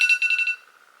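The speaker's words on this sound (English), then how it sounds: "That was an alarm, guys." An electronic alarm sounds a quick series of about six bright pulsing beeps, then trails off into a fainter steady tone, close and clear with no voices.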